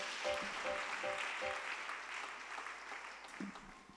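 A church congregation clapping in praise of the Lord, a soft, diffuse wash of many hands heard from a distance, with faint tonal sounds early on and the clapping slowly fading.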